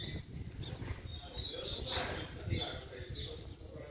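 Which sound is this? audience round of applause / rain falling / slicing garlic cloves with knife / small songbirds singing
small songbirds singing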